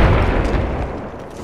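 A frag grenade detonates in Apex Legends, a loud, close, deep rumbling boom that rolls on and slowly fades over the moment, with no talk over it.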